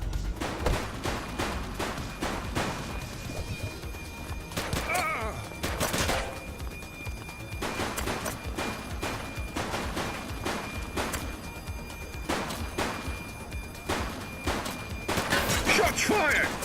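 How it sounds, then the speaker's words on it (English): Gunfire rattles through a shootout in The Precinct video game, with repeated bursts of loud shots, some rapid and some spaced, over a busy background and occasional voices. "Shots fired!"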